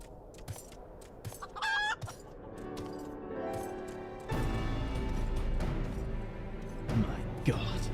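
Chicken clucking in Final Fantasy XIV, a few short clucks and a crow-like call mixed into game music and effects, with people talking over it.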